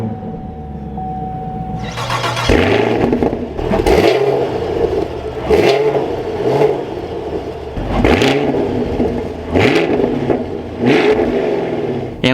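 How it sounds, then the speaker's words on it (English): A 2023 Chevrolet Camaro 2SS 1LE V8 cranks and catches at about two seconds, then settles into a loud idle broken by several sharp throttle blips, each swelling and falling away. "Let's fire this Camaro back up"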